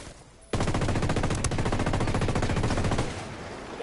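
Sustained automatic gunfire in the tactical shooter game Ghost Recon Wildlands, a loud continuous burst of rapid shots lasting a few seconds before it drops back to quieter background noise.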